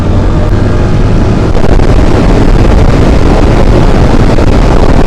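A motorbike ridden fast on an open road, with heavy wind buffeting the microphone, producing a loud, continuous roar of engine and rushing air that never lets up.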